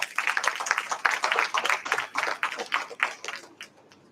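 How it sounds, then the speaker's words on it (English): Audience members at a national medical conference on reproductive health applaud, a dense burst of many hands clapping together that stays loud and then thins out over about four seconds. "I think this certainly deserves a big round of applause."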